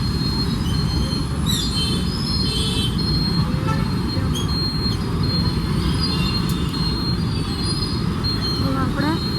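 A departing train rumbles loudly along the rails, with high wheel squeals cutting in now and then over a steady roar, while people talk.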